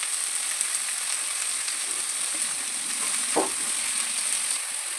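Tomatoes fry in a pan while uppittu is being made, giving an even, hissing sizzle throughout with one brief knock of a utensil midway; nobody speaks.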